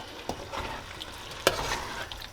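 Cabbage tossed into a pot of curry shrimp and stirred, giving soft scraping and shuffling with a faint sizzle, one sharper clatter partway through, close and moderately quiet with no talking.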